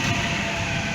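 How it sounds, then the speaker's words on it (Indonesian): A Dharma Wangsa passenger train near Semarang station makes a loud, continuous rumbling roar, with a steady broadband wash of rail and engine noise throughout. "kereta api Dharma Wangsa, mungkin ditahan sinyal teman-teman karena penyetannya belum ditutup."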